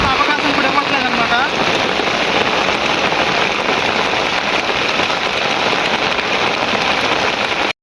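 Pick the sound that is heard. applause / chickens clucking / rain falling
rain falling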